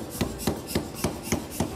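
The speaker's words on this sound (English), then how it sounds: "The metal is heated up, then hammered flat, either by hand or power hammer." Metal for a film sword is hammered flat in rapid, evenly spaced blows, six sharp strikes in under two seconds, each a close, crisp clank over a low workshop hum.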